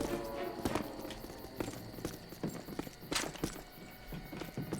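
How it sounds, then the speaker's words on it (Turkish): Footsteps in the video game Call of Duty tap in an irregular, fairly quick rhythm amid dense game sounds and scattered impacts, with no talk over them. "Hatır hatır ayak sesleri duyuyorum."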